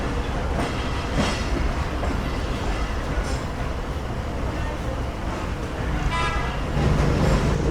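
Train rolling slowly through Kanpur Junction, a steady close rumble of wheels and carriage noise with faint clicks and a short toot, voices faintly in the background.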